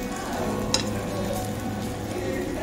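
Chicken sisig with egg sizzling on a hot plate at a Filipino restaurant, a steady close crackle and hiss with one bright clink of a utensil partway through.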